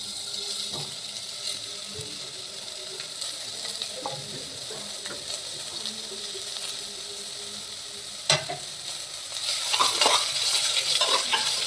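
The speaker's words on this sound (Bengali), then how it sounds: "ভালো করে আবার একটু নাড়াচাড়া করে এই যে লাউগুলোকে দিয়ে দিচ্ছি" Bottle gourd pieces tipped into hot spiced oil in a pan and stirred, giving a steady sizzle with scraping stirs throughout, a sharp clack near the middle and a louder surge of frying toward the end.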